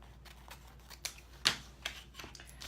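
Scissors cut ribbon while a bow is being made, producing several short, crisp snips at irregular intervals, close up and fairly quiet against a near-silent background.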